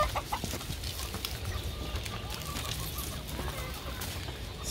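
A rooster guarding a hen clucks in short, scattered bursts at moderate distance outdoors, with faint background rustle between calls and no one speaking.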